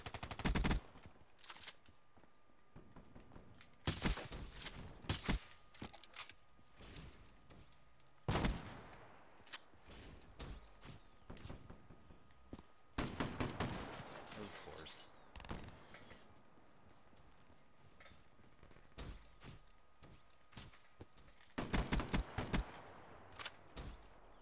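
Gunfire in a first-person shooter video game, repeated bursts of automatic fire and single shots at varying loudness across the stretch, with someone talking over parts of it.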